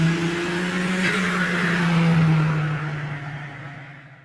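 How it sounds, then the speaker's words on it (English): A Lamborghini drives with a steady engine drone and road roar from close by, holding level before easing off and fading away toward the end. "what a beautiful morning for a drive in the Lamborghini"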